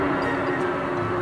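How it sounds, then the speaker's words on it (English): A passing train makes a steady, loud rumbling drone with a sustained hum, heard alone over a short stretch. "It's just, you know, train going by probably."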